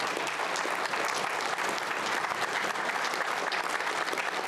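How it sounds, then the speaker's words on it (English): Audience applause during a live national news broadcast, a dense and steady wash of clapping that holds at an even level for the full length, with no talking over it. "Now, you can applaud for that one, Perry."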